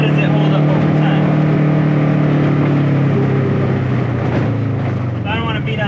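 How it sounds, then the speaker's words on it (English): A vehicle fitted with a new Mother Clutcher primary clutch coasts downhill, giving a loud, steady, close droning hum throughout, with a voice talking over it. "It's coasting on this downhill part pretty good."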